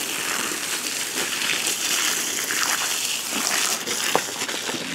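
Water pours steadily onto garden plants, including succulents, in a continuous close gushing and splashing wash with a small knock near the end.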